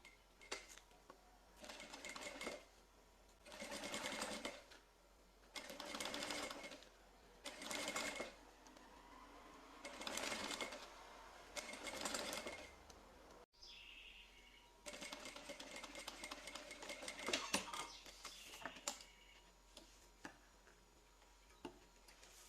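A sewing machine stitches bias binding onto fabric for a craft piece in several separate runs, each a steady close whirring rattle lasting a second or two, with pauses between them and faint ticking in the quiet gaps.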